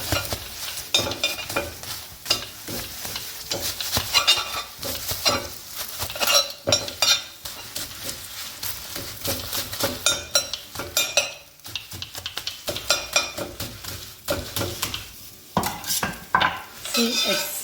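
Paratha roti being beaten and broken apart in a pot for buss up shut, busy clattering of a utensil against metal with rapid scraping and thumping strokes, loud and close, going on throughout.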